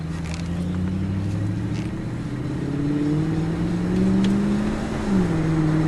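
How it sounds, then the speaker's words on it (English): A Lexus LS430 sedan pulls away and accelerates, its engine note rising through the gears in a smooth, moderately loud hum heard from inside the car. "Take the LS430 for a quick little rip."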